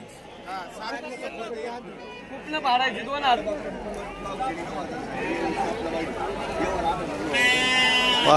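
Sheep bleat repeatedly at Shirur sheep market in Pune district, wavering calls rising over a steady murmur of crowd chatter, with one loud, close bleat near the end.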